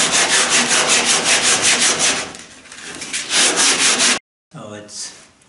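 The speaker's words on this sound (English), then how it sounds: "I can just use a bit of a longboard sandpaper to try and smooth this out" A longboard sandpaper drawn back and forth across wooden forms for a dinghy build, loud close rasping strokes in a steady rhythm that slows midway and then cuts off briefly before one more pass.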